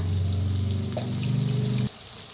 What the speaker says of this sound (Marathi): छान भाजून घेऊया तेलातच भाजायचं